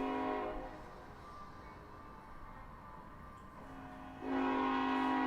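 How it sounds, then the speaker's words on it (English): Train horn sound effect played from a tabletop RPG soundboard: a sustained multi-tone horn blast that dips quieter mid-clip then swells loud again near the end, heard alone. "Train horn."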